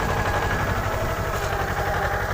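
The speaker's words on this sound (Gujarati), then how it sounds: "જોઈ લો આ રીતે છે જીઓની ટ્રેક્ટરની ખેડ" A mini tractor engine runs steadily while ploughing a field, a loud, continuous mid-range drone with a faint rhythmic vibration and no talk.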